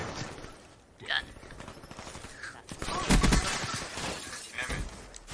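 Gunfire in Call of Duty Black Ops 3, with bursts of shots, shattering impacts and a loud volley of rapid fire in the middle, while a voice talks intermittently over the chaotic battle noise.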